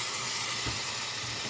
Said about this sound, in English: Listen to that pan sizzling.